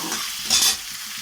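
A masala of chopped onion, tomato and ginger fries in a pan, giving a dense close sizzle with a brief swell of hiss and a spatula stroke midway.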